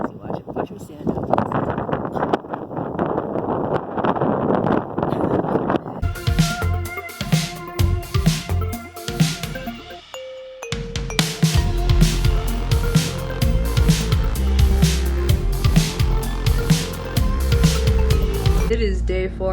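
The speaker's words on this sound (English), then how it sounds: "The wind, the crosswind is insane" Strong crosswind roars around a rider on a Honda Rebel motorcycle at highway speed, a loud, rushing buffet for several seconds, then other louder sounds with a voice take over.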